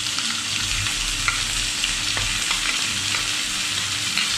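Sliced chicken breast sautéing in a pan with garlic and onion gives a steady, close sizzle and crackle throughout, with a few light stirring clicks and no talk.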